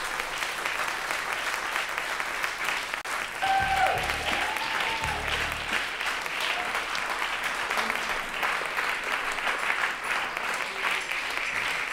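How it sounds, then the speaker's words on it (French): Warm applause from an audience at a live event, a steady dense clapping that fills the whole stretch, with a brief whistle-like tone and a burst of voices in the middle. "que je vous demande aussi d'applaudir chaleureusement."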